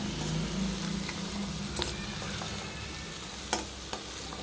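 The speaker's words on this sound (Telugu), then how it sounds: "సాల్ట్ అంతా కూర అంతా కలిసేలా కలుపుకుందామండి చక్కగా మగ్గించుకోవాలి" A beetroot and fresh coconut curry is stirred in a hot pan, with a continuous close sizzle broken by occasional sharper scrapes of the spoon against the pan.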